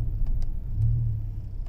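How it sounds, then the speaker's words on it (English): A 2008 BMW M5 with its V10 idles as a low, even rumble while the cooling fan whirs steadily, with a few faint clicks over the top and no talk. "sitting here idling, I mean, the only really loud thing is the fan. The motor is nice and quiet."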